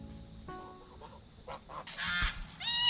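Several geese honk in a loose run of calls that grows louder and busier toward the end, with faint low-level noise underneath and no talking.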